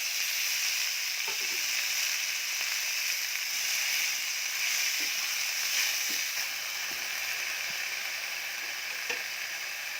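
Greens fry in leftover fish oil with fenugreek seeds and green chili, producing a steady hissing sizzle with occasional soft stirring clicks, moderately loud and continuous.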